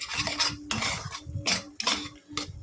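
A spoon scrapes and stirs mashed flat-bean paste (shim bata) in a kadai, several short rubbing strokes in a steady back-and-forth rhythm, close and clear with no talking.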